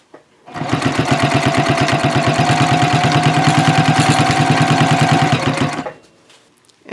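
A sewing machine runs in one continuous close, loud burst of rapid, even stitching, sewing connectors onto a messenger bag, then stops and falls quiet.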